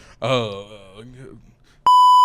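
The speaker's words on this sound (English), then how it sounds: "they said they would beep that." A person speaks briefly, then a loud steady censor bleep tone cuts in and holds to the end.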